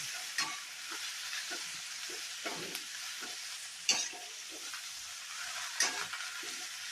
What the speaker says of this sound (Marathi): आता आपण छान तेल सगळं भाजीला लागेल असं कालवून घेऊया.